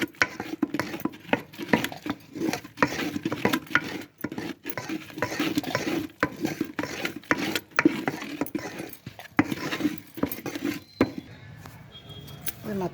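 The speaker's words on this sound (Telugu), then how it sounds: "ఇలా బాగా స్పీడ్గా కలపాలి. ఇది ఇలా పిండి వేస్తూ అలా కలుపుతూ ఉండాలి." Rice flour dough for Pongal ariselu being mixed quickly by hand in a bowl, a steady close patter of wet squelching and rubbing strokes that continues without pause.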